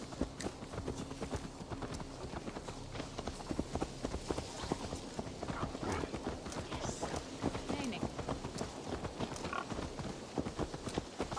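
Horse hooves clip-clop steadily in Assassin's Creed Valhalla, a quick irregular run of hoofbeats heard close, with game voices talking over them.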